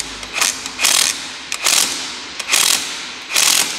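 A ratchet wrench works a car spark plug loose, giving five bursts of rapid pawl clicking separated by short pauses, close and fairly loud with no talking.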